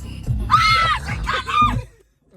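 A young girl screams loudly and close in two shrill, drawn-out bursts, with a short gap between them and silence at the end.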